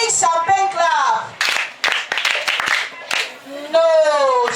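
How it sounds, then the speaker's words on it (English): Group of children at a reading marathon session doing a rhythmic clap, a run of sharp claps in a quick sequence between bursts of a voice speaking before and after. "Let us give her a big champagne clap."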